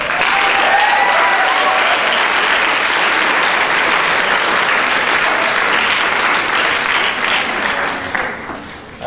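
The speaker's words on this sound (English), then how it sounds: "But please give a round of applause to Mr. Daniel Lopez." Sustained applause from a large crowd at a college forensics team speech night, loud and dense throughout, fading slightly toward the end.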